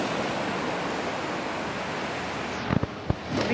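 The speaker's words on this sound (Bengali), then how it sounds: "দেখো সমুদ্র আজকে প্রচণ্ড উতলা" Rough monsoon sea crashes as a continuous roaring wash of surf at Ao Nang beach in Krabi, Thailand, loud and steady, with a few short knocks near the end.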